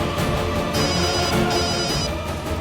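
A telephone rings steadily with a bright repeating electronic tone over a busy background, no voices present.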